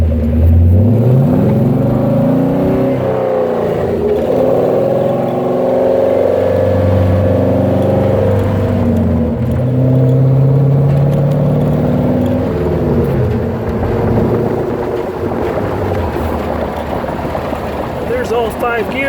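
The engine of a 1933 Ford Roadster Factory Five runs as a loud, steady drone whose pitch wavers and climbs as it revs and moves, heard close the whole time with a voice talking over it.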